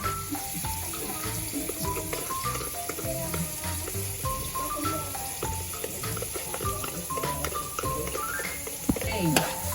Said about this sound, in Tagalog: Haluin na natin ito.